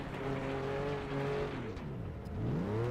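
Race car engines in the video game Flatout 2 drone and rev with rising and falling pitch, several motors overlapping in a continuous mid-loud roar.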